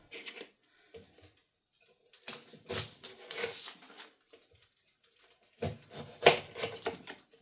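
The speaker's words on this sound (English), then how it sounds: "Just cut this onion up." A knife chops an onion on a board in quick clusters of crisp taps, separated by short pauses, close by and fairly quiet.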